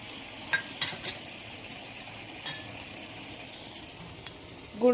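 Ginger paste fries in a pan with a low, steady sizzle, broken by a few sharp clinks of a utensil against the metal and a louder scrape near the end.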